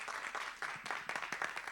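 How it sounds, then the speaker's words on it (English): Audience clapping at the close of a talk at a convention: dense, steady applause at a moderate distance, fairly faint, lasting a couple of seconds. "okay, applause."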